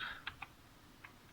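A few quiet, separate keystrokes tapped on a computer keyboard, short clicks spaced irregularly against near silence.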